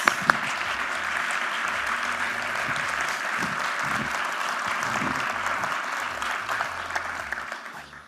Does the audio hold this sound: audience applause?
yes